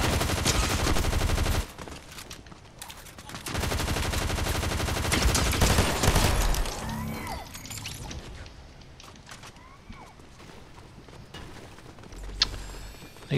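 Loud, sustained automatic gunfire from the video game Fortnite fills the first several seconds, then softer scattered shots and clattering game effects follow, ending in a few sharp bangs.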